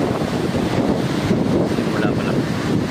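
Strong wind gusting across a beach in Boracay at high tide, a steady roar of wind buffeting the microphone with surf washing beneath it throughout.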